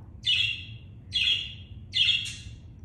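A pair of pet birds, one blue and one green, chirp three times in quick, bright bursts over a low, steady room rumble.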